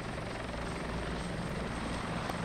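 A helicopter's steady rotor thrum and engine drone in the video game Arma 2, continuous and fairly close, with no voices.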